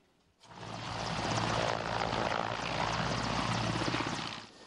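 Military transport-attack helicopter of the Joint Forces Operation flying in Donbas: rotor and engine noise rise sharply from near silence, hold as a loud, steady, pulsing drone, then ease off at the end.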